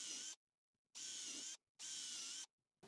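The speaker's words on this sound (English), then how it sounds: "I'm just going to pre-drill some holes for screws that we'll install later on." A power drill pre-drills screw holes in an MDF lamp base, running in three loud, even bursts of about half a second each, separated by short silences.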